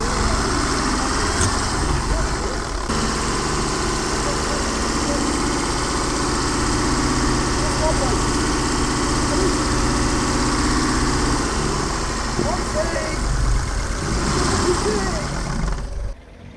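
A Volvo car engine idles loudly and steadily throughout, with a rough, uneven knocking texture, and people talk faintly over it before it cuts off at the end.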